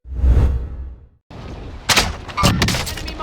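Call of Duty Warzone match with a RAM 7 assault rifle: sharp, loud broadband gunfire bursts in the second half after a brief pause, with a few distinct cracks over game ambience.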